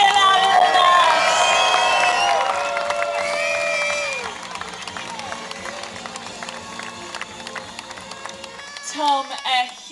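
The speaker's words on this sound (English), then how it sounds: "Come on, you can cheer louder than that!" A live audience cheers and claps for an Australian Olympic gold medalist in men's Laser sailing, loud at first and then fading into scattered applause, with an announcer's amplified voice and a few whistles near the end.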